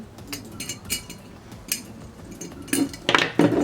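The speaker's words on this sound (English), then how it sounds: "I'm going to take some needle nose pliers and just pull this wire up like this." Needle nose pliers pull wire off a Dollar Tree apothecary jar lid, giving light metallic clinks and scrapes that are quiet at first and then sharper and louder in a few close bursts near the end.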